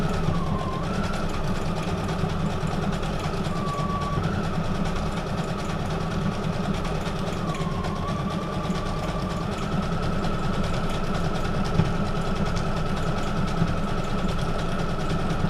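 Sewing machine stitching paper signatures for a mini junk journal, a steady fast mechanical whir and hum running continuously at moderate level with small pitch shifts, no talking.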